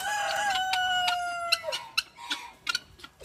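Guinea fowl squabble nearby on a farm animal sanctuary, one long drawn-out call giving way to sharp, repeated harsh chattering bursts as the birds fight.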